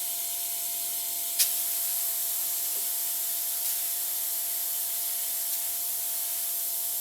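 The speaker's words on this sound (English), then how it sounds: "And again the airbrush is doing strange things." An airbrush sprays paint in a steady, close, high hiss that continues throughout, with a faint tone beneath and a small click early on.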